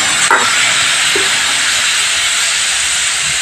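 Water splashed into masala frying for a broccoli vegetable curry sets off a loud, steady hiss of sizzling steam, close and continuous from start to finish, with a faint clink near the beginning.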